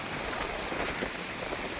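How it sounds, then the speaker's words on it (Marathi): Light drizzle falling at a beach, a dense, even wash of steady rain noise with no distinct drops standing out and no voices. "पाऊस पडतोय"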